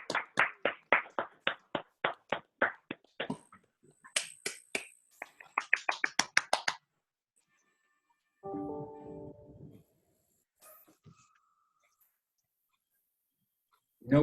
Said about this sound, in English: How about a last round of applause for Maura and Kim?